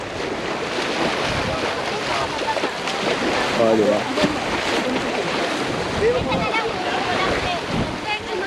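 Waves wash steadily and wind rushes across the microphone at Palad sandbar in Marinduque, Philippines, with people chatting and calling out over the surf.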